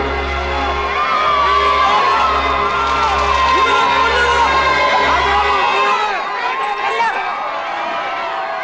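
A loud crowd roars outside a palace in a 1997 Malayalam film scene, with massed shouting and cheering that swells close and steady for several seconds before thinning into scattered voices.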